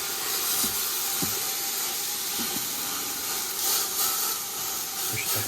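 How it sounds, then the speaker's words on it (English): Steady loud sizzling hiss of meat searing in a hot Instant Pot, browning for pot roast, with occasional soft clinks and pops close by. "You want that sizzle."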